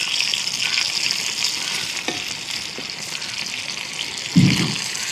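Crab frying in a pan with fish and squid, a loud continuous hiss and sizzle with faint stirring scrapes and a brief low thump near the end, no voices.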